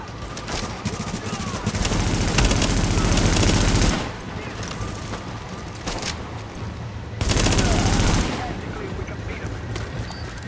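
Automatic gunfire in Tom Clancy's The Division video game, two loud sustained bursts of rapid shots separated by a few seconds of quieter game ambience.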